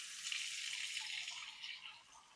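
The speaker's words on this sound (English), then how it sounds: "now you want to get your hot water in your sink going." Hot water running from a kitchen sink faucet, a steady soft hiss of flowing water that fades slightly near the end, with no one speaking.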